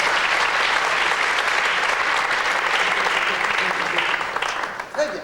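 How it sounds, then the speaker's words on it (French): Audience applause for a volunteer called up on stage in a 1984 French TV series, sustained and even clapping from a crowd that fades out at the end. "Et on l'applaudit un peu pour l'encourager"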